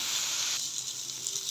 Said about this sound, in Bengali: এটা ঘিয়ে একটু ভালো করে ভেজে নিতে হবে।